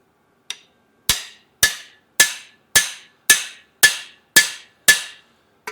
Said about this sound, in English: Whoop on it with a hammer.